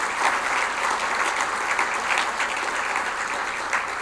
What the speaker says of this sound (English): a round of applause for them as they work in this important work.